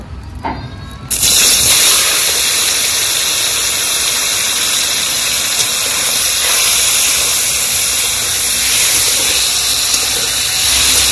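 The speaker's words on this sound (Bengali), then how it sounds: "এবার পনিরটা ভাজতে হবে, তাই কড়াইয়ে তেল দিয়ে দেব।" Lightly salted paneer hits white oil in a kadai and erupts into a loud, dense sizzle after a brief quieter moment, then keeps hissing steadily and close by.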